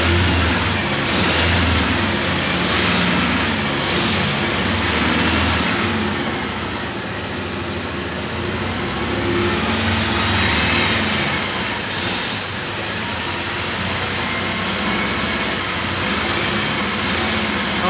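A 1980 Triumph TR7 engine runs steadily throughout, a continuous close mechanical drone with a slight dip in level midway and no voices over it.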